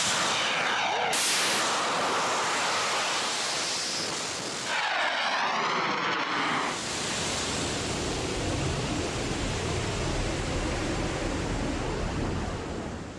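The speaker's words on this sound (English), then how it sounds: "The rocket climbs over half a mile up." Model rocket after ignition, a loud broadband roaring rush that fills the whole clip as it climbs, with a brief drop and a second surge partway through, no voices.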